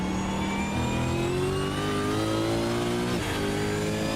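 A V8 Supercar at Imola in a sim racing game revs hard as the throttle opens, its engine note climbing steadily through a gear, dropping briefly at a shift and then climbing again, loud and close with no talk.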